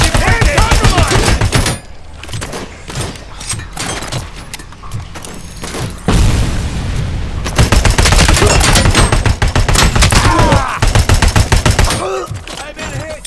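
Rapid automatic gunfire from a RoboCop: Rogue City shootout, loud sustained bursts and fusillades with brief lulls, mixed with thuds and mechanical clatter, with occasional voices under the shooting.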